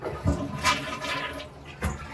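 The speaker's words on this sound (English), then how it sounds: "And then we're going to flush the toilet." A household toilet flushes during a DIY bathroom renovation with the water supply already shut off, giving a rushing, gurgling swirl that surges and fades over about two seconds with a couple of low thuds.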